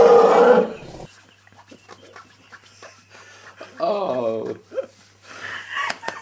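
A man imitates a lion's roar with a loud, rough vocal burst at the start, followed by softer scattered voice sounds and brief talk.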